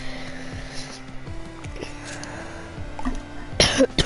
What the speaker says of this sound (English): Sorry about the cough, I'm sick.